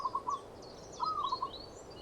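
A yellow bittern calls in a quiet, reedy setting, giving a short series of soft, low hoots in two brief bursts, with thin high chirps above them.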